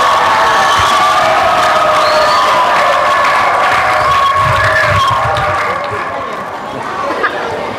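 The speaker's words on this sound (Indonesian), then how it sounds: "Kita berikan apresiasi dengan tepuk tangan yang meriah atas jawaban-jawaban keren dari paslon kita." Applause and cheering from the audience at a junior high school student council candidate debate, a loud crowd of clapping with whoops and chatter that slowly eases off toward the end.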